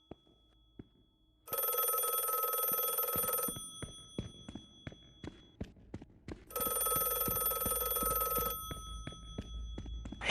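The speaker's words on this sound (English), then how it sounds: "Phone is ringing" Telephone ringing in The Last Case of John Morley: two loud, shrill ring bursts separated by a pause, with steady footsteps and light thuds underneath throughout.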